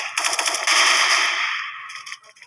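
Rapid burst of gunfire from an AUG rifle at an outdoor shooting spot, loud and close, with repeated sharp cracks blending into a sustained roar that fades over about a second and a half.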